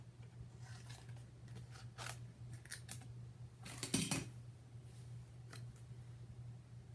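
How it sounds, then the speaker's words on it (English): Scissors snip through a small piece of cardstock during a die-cutting craft session, making a few short crisp cuts near 2 s and 4 s over a steady low hum, with no talking. "So I'm just going to cut a small piece of cardstock."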